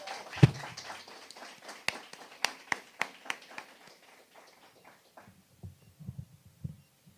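Scattered, sparse clapping follows a performance by Island Skipper at a scholarship relaunch and renaming ceremony, with a few loud individual claps that fade into faint low murmuring.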